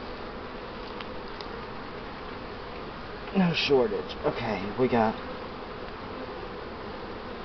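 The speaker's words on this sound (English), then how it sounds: "Good population of bees here" A dense, even drone of honey bees fills the air around an open hive, with someone talking briefly over the middle of the constant buzzing.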